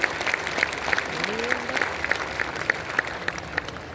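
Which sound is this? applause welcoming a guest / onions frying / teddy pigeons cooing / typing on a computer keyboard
applause welcoming a guest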